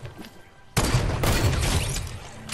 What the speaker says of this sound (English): He's got a heavy sniper.